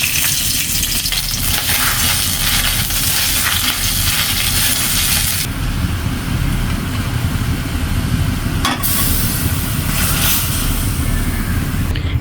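Whole spices sizzle and spit in hot oil in a heated iron wok (kadai) in a village kitchen, a steady loud crackling frying hiss throughout with no talk.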